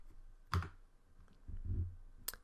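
A few sparse keystrokes on a computer keyboard during engineering data entry for a venturi meter calculation, faint and spaced apart in a quiet room.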